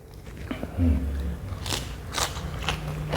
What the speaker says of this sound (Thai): เดี๋ยวผมจะกินน้ำพริก เห็ดด้วยนะ